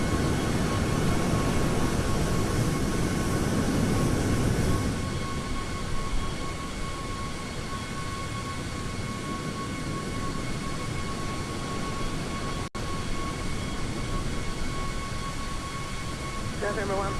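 Airplane engine drone from a cruising aircraft in a flight simulator game: a steady loud whooshing hum with a constant tonal whine, continuous throughout, slightly louder at the start.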